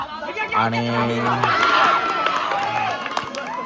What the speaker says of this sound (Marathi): जल्लोष बघू आता